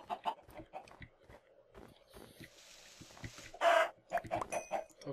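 Chickens in the Minecraft video game cluck in short, scattered bursts, and one louder squawk stands out near the end. The sounds are fairly faint over a quiet game background.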